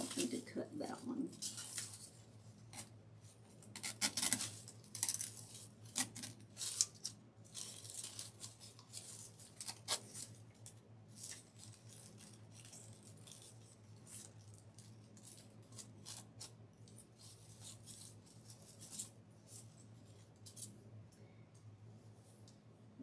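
Scissors snipping through wired ribbon while building a tobacco basket wreath, with a cluster of crisp cuts and rustling early on, then quieter fiddling over a steady low background hum.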